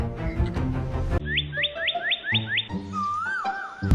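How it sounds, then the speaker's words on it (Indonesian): Bright bird chirps and whistles sound up close: a run of six quick rising tweets, then a wavering whistled call, over a busy background of other sounds. "Ini namanya burung."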